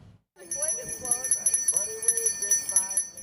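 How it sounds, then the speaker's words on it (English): Salvation Army volunteers ring handbells beside red holiday kettles, a bright, steady jingling of bell tones over busy street bustle and passing voices. "You've likely heard the bells ringing and seen the red kettles."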